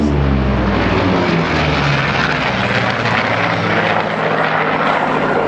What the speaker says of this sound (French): entendez le son du Lightning, les 2 moteurs Allison de 1300 chevaux chacun